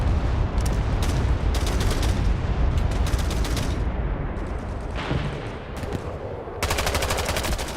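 Heavy gunfire in the Vietnam-era shooter Hell Let Loose Vietnam: dense automatic bursts and rapid shots rattle almost continuously, loud and close, with brief lulls between volleys and a final sustained burst.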